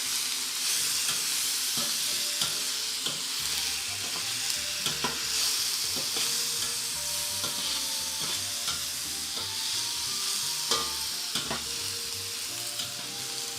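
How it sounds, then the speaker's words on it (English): Potatoes fry in a pan with a steady, close sizzle while a utensil stirs them, scraping and clicking at irregular moments throughout; there is no talking. "Now let's stir and incorporate."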